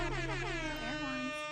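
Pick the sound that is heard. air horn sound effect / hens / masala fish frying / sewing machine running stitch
air horn sound effect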